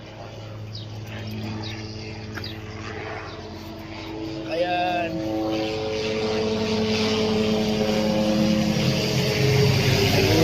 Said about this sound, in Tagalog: Nagulat sa helicopter.